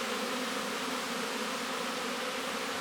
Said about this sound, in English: being harassed by some of these bees.